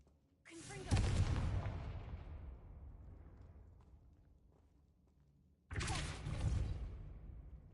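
The Confringo blast spell in the video game Hogwarts Legacy fires twice, each a sharp, loud explosive crack with a long rumbling decay, separated by a few seconds of fading quiet.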